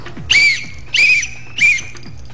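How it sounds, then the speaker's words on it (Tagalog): Three sharp, loud whistle blasts sound close by, evenly spaced and each lasting about a quarter second, signaling a call for help. "Tatlong pito."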